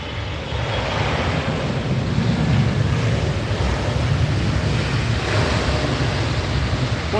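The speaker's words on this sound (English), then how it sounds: "There's 777 coming in, beautiful landing there." A Boeing 777 landing on runway 27R at London Heathrow Airport, a steady broadband jet roar heard from a distance, mixed with wind buffeting the microphone throughout.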